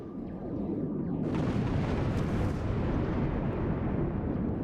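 Orbital bombardment from the space game Star Trek Online: a dense, continuous rumble of explosions builds quickly to full loudness after about a second and keeps roaring, with no talking.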